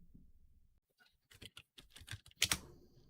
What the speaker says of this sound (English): So I'm gonna type it.